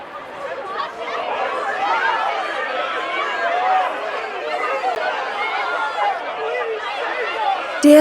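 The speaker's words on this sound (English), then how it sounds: "Talk about a crowd." A city crowd in Final Fantasy XV murmurs and chatters steadily, a dense mass of many voices with scattered laughter, loud and continuous throughout.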